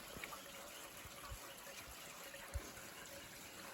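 Faint water trickles and flows in a steady, low wash from a solar-powered well pump, with a few soft thumps underneath and no one speaking.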